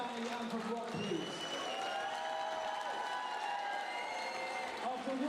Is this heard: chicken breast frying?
no